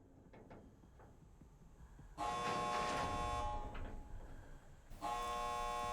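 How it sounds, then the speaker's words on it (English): The hatch opening in the Dead by Daylight video game sounds as a sudden loud, sustained metallic tonal drone that cuts in over quiet ambience, breaks off briefly, then returns just as strongly. "I heard the hatch open"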